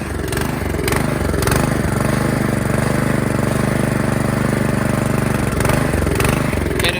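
Troy-Bilt Storm Tracker 2690 XP snow blower engine running steadily with more choke, a loud close mid-pitched drone that stays fairly even with slight pulsing.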